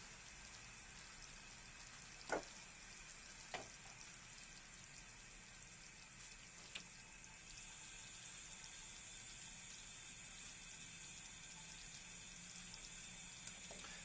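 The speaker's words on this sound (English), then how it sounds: "Now it's bubbling." Brown sugar and butter bubble in a pan while candying pecans, making a faint, steady sizzling crackle broken by a few distinct pops, with no one talking.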